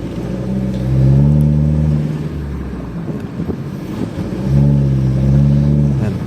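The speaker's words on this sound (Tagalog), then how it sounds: "ang basin ng tunog ng exhaust natin. Naka-resonator kasi." A Mitsubishi Strada GLS turbo diesel pickup with a resonator exhaust revs in two strong surges, a deep throaty drone rising and falling, heard close and loud with wind noise and no talk.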